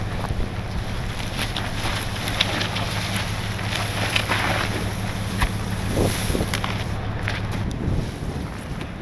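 Strong wind during a wind storm roars steadily and close across the whole stretch, with a low, constant rumble and buffeting on the microphone, and no clear talk.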